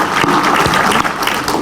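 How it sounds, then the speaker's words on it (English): Loud, dense applause from a large crowd at a travel industry press conference, steady clapping filling the space without pause. "Let's give U.S. Travel Association Brand USA a huge round of applause."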